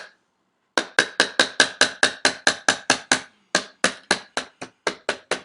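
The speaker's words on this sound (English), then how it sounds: "Go ahead and just hammer, go ahead and just punch it the rest of the way through." Steady series of about twenty sharp metallic hammer strikes on a punch, driving a pin through a TT33 Tokarev pistol during a magazine drop repair, close and loud with a brief pause partway, no talking.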